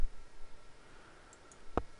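A single sharp computer mouse left click, near and brief, heard alone against a faint room hiss.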